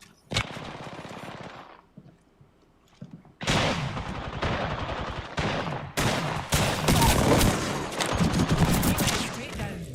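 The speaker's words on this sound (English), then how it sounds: "Getting shot at." Rapid bursts of automatic gunfire from a shooter video game with shields and reloading, loud and sustained in long volleys broken by short pauses, with some voice chatter underneath.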